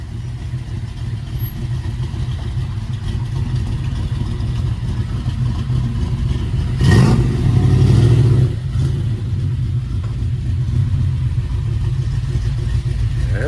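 A 1967 Chevelle SS 396 with a four-speed sits at a rumbling idle, swells into a brief rev midway, then drops back to a steady, loud, close-up idle.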